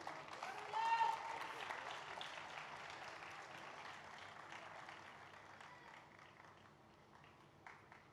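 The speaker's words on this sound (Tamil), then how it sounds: "மித்துலேஷ் அவர்களை அன்போடு அழைக்கிறோம் உங்களின் கைத்தட்டலின் ஊடாக." Applause from a crowd at a Christmas celebration event, dense and steady at first, then slowly fading over several seconds as it dies down.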